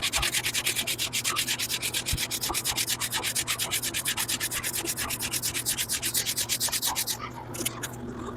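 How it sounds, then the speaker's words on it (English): Sandpaper is worked by hand over a car body's bottom rim in steady, rapid back-and-forth strokes, close and continuous, ending in a few slower rubs. "Fresh bit of sandpaper here."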